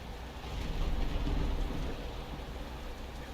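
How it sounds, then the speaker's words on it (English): Rain falls steadily in the video game Valheim, a soft continuous hiss with a low rumbling swell that rises and fades. No voices are heard. "It's raining."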